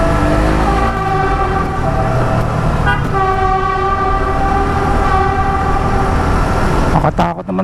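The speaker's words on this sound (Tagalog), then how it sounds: "Makatakot naman ang tren." A train passes close by, sounding loud, sustained horn blasts over a heavy rumble that holds throughout before cutting off abruptly near the end.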